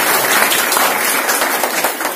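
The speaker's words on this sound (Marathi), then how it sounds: "टाळ्या वाजून त्यांचं सर्वांनी स्वागत करावं." An audience at a Vitthal temple in Talegaon claps in welcome, a dense burst of steady applause from a nearby crowd lasting the whole moment.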